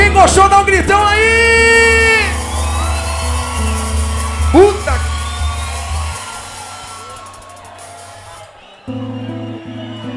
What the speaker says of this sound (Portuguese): quem gostou dá um gritão aí.